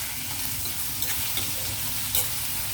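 Chopped onions sizzle and fry steadily in a pan for mutton keema, a continuous close hiss with occasional stirring scrapes and no talking.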